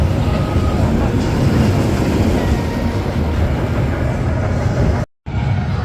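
Icon roller coaster at Blackpool Pleasure Beach rumbling past nearby, a loud, steady broadband roar of the train on its track that holds for about five seconds, breaks off for a moment, then resumes.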